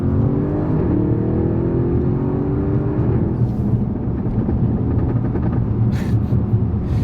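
An Audi RS6 Avant with downpipes gives off a deep, rumbling engine note whose pitch climbs and then settles into a steady drone, heard from inside over road noise, without speech.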